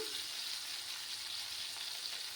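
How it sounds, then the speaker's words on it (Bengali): Brinjal pieces fry gently in a pan over a low gas flame, producing a faint, even hiss of sizzling oil that runs unbroken, without talk. "আর গ্যাসের আঁচটাকে আমি একদম কমিয়ে রেখেছি বেগুনগুলো আমার ফ্রাই হতে থাক"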